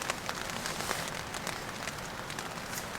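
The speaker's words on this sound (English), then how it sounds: "if you can hear that pitter patter, that's a wee bit of rain" Light rain patters on a tent at a Wyoming wilderness camp, making a steady, soft hiss with many faint, scattered droplet taps close by.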